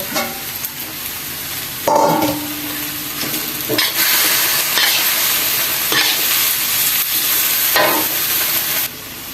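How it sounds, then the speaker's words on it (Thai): Pork and vegetables stir-fried for pad kra pao (Thai basil pork), loud close sizzling in a pan with repeated scraping, tossing strokes of a spatula, no talk. "ลงไปผัดให้มันสุก แล้วใส่ผักเยอะๆเลย"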